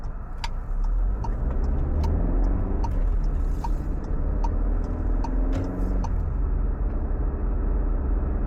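Volkswagen car driving along a road near Millway Rd, heard from inside the cabin: a steady low engine and road rumble runs throughout, with faint clicking ticks like a turn signal at regular intervals.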